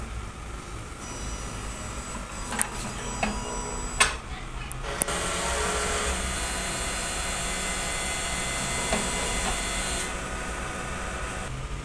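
A sublimation printer runs its print head cleaning cycle: a few sharp mechanical clicks and clunks early on, then a steady, close motor whir with pumping tones that continues to the end.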